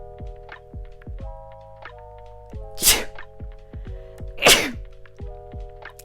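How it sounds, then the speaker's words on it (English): Two sharp, loud sneezes a moment apart, with low thumping and tonal tones sounding steadily in the background. "I have to sneeze."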